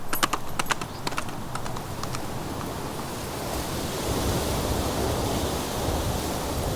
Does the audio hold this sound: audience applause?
no